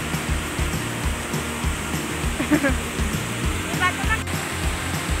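Water from the Tres Andanas waterfall, a tiered falls, rushes in a steady, moderately loud roar with no break, while faint voices sound briefly under it.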